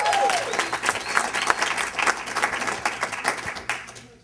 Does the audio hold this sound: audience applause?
yes